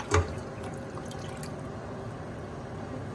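Water is poured over chicken in a pan while cooking a Balochi tikka karahi, starting with a short splash followed by a soft, steady trickle nearby.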